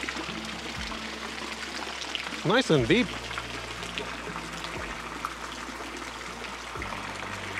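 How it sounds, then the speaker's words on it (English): Water runs steadily from an outdoor pool shower at a luxury home in Cape Coral, Florida, a constant hissing stream heard under someone talking. "You got your nice shower here."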